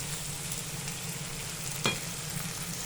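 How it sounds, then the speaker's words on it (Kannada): Onion and garlic frying in a pan for ridge gourd chutney, a steady close sizzle with a low crackling bed throughout and one brief sharper scrape or pop near the end, no voices. "ಈರುಳ್ಳಿ ಹಾಕಿ ಬೆಳ್ಳುಳ್ಳಿ ಹಾಕಿ ಬಾಡಿಸ್ಕೊಂಡ್ಮೇಲೆ ಒಂದು ಒಂದು ನಿಮಿಷ ಬಾಡಿಸ್ಕೋಬೇಕು ನೀಟಾಗಿ"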